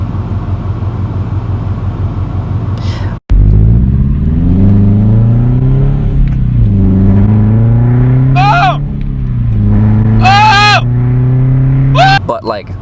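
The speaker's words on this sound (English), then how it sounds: "I have the Subie rumble now" A Subaru BRZ fitted with unequal length headers idles and revs in a deep, loud, close exhaust rumble. The pitch rises and falls through several throttle blips, and a voice talks over it at times.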